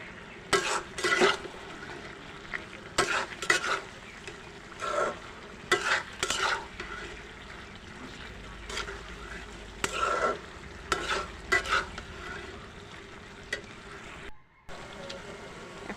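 Malabar spinach with tilapia fish heads stirred in a pan, with repeated scraping strokes of a spoon and a soft sizzle underneath, fairly close and steady throughout.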